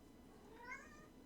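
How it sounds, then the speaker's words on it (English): A pet cat gives a single soft, faint meow, alone over quiet room background. "and that is my cat."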